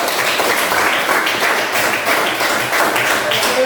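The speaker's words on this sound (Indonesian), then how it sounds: "tepuk tangan buat" A classroom full of people clapping together, dense and steady for a few seconds, fairly close.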